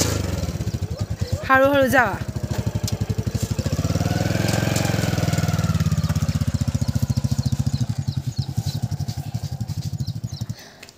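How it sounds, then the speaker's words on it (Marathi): A motorcycle engine starts nearby in a village setting and settles into a steady, rapid idle thump that runs throughout, with a person speaking briefly over it. "आणि आबा चाललेत बाईक घेऊन"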